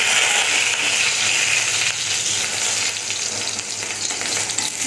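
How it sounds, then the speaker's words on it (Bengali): Bora fritters frying in hot oil give a continuous bright, hissing sizzle, close and steady, with slight variation as they are stirred. "এই যে দেখো বড়াগুলো ভাজা হচ্ছে"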